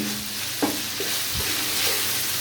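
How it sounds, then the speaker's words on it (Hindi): Mutton roasts in ghee over a high flame, a continuous close sizzle broken by a couple of stirring knocks and scrapes against the pot, with no voices. "हाई आंच पर इसको अच्छे से हम भूनेंगे"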